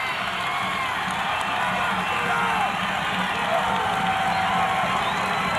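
A large crowd at a 1992 regional semi-final men's basketball game roars steadily in an indoor gym, a dense, sustained wall of cheering with no breaks.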